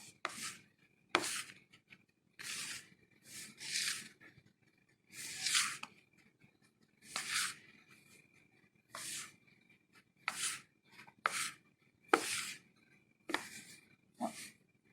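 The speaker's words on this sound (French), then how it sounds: "Je vais rapidement mélanger en écrasant de façon à agglomérer les éléments." Pâte sucrée pastry dough is pressed and crushed by hand on a work surface, giving a string of short, soft rubbing and squishing bursts with brief pauses between them, close up and with no voices.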